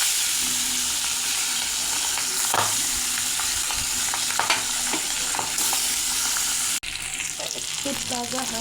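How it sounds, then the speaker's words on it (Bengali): Tengra fish coated in turmeric and salt fry in very hot mustard oil, giving a loud, steady, close sizzle with faint scraping, then a sudden shift to a slightly different crackle near the end. "হলুদ লবণ মাখা মাছ দিয়ে দেব।"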